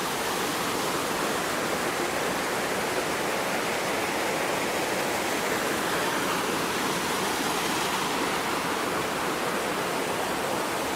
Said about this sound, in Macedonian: Мислам дека нема шанси да ме слушате од водава